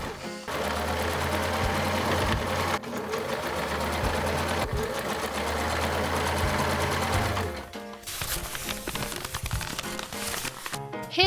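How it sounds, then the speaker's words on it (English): Sewing machine stitching a jacket, running in a steady rapid mechanical whir with brief pauses, then short stop-start bursts toward the end, close and loud with no clear talk. "Like any other sewing project with a sewing machine, you need to insert the garment under the needle and start sewing."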